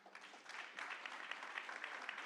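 An audience claps steadily through a city speech, a dense wash of many hands that swells slightly and holds, alone without talk.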